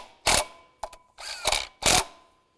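Ratchet wrench tightening timing chain pulley bolts on a Chevy Trailblazer, three loud bursts of rapid clicking ratcheting with a couple of shorter clicks between, close up and no talking.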